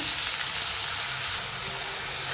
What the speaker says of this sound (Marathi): मिरची थोडी भाजत झाली की आपण हा कांदा घालून घेऊया